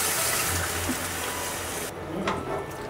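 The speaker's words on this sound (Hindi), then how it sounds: "अब हम उबले हुए छोलों को मसालों के अंदर डाल देंगे" Boiled chickpeas and their cooking water are poured into spices, making a steady gushing, splashing pour that stops abruptly partway through. A softer liquid trickle follows.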